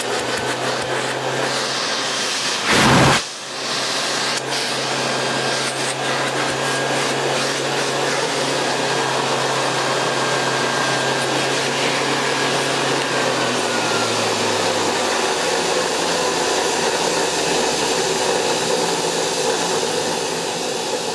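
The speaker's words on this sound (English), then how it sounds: "So in theory, we can test the suction." A Hoover Model 725 vacuum cleaner fitted with a Turbomaster hose runs with a loud, steady motor roar and whine. A brief thump comes near the start, and the tone drops slightly later on. No one speaks.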